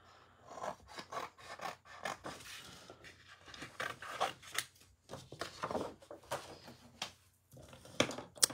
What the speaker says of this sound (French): On va prendre mes petits ciseaux.